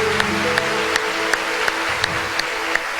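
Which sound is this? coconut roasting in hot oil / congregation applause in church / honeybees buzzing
congregation applause in church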